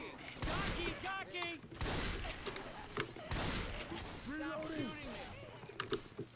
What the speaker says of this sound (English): Scott, stop shooting me. I'm sorry, it's a shotgun.